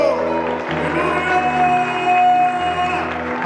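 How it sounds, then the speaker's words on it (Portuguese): Church congregation clapping for the Lord during a Portuguese-language worship service, a dense wash of applause and cheers layered over sustained organ or keyboard chords and shifting bass tones. "aplaude ao Senhor"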